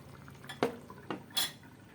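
Lid set onto a cooking pot of boiling pork mechado, giving a few light metallic clinks and taps close by over a soft background hiss, with no talking.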